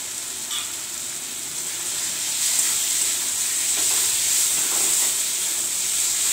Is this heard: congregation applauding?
no